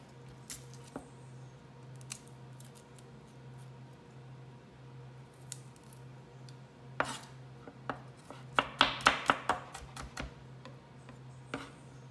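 A knife chops garlic on a cutting board while sweet and sour parrot fish is prepared: a few scattered taps, then a quick cluster of sharp chops near the end over a steady low kitchen hum.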